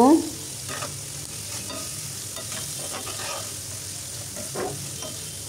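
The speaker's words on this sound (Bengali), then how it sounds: "পেঁয়াজগুলো আমি খুব সুন্দর করে একটু ব্রাউন করে হালকা ভেজে নেব" Onions browning in a pan for a restaurant-style chicken curry, a continuous moderate sizzle with repeated scraping stirs of a spoon, heard close with no voices.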